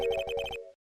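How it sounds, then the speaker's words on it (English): Cell phone ringtone in a Phoenix Wright video game: a short electronic melody of rapid repeated tones, close and clear, ending abruptly with a brief fading note. "I heard a phone ring just now. One of those newfangled ringtones."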